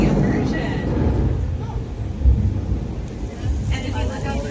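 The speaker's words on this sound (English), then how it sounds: "you'll see our overhead sprinklers providing the rain." Simulated thunderstorm on the Universal Studios Hollywood tram tour, with rumbling thunder from surrounding speakers and overhead sprinklers hissing rain, a continuous storm bed with a louder rumble midway and a guide speaking over it.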